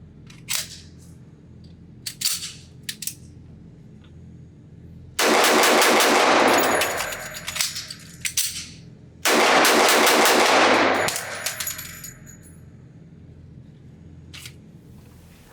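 A Sig Sauer P227 Carry compact pistol fires two rapid strings of shots at an outdoor range, loud and sharp with ringing tails, separated by scattered single shots and quieter handling noises.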